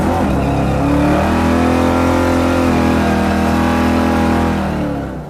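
A 1975 Corvette Stingray fitted with a Mopar Hemi engine drives at speed, its loud, steady engine roar close and continuous, swelling slightly before easing off at the end.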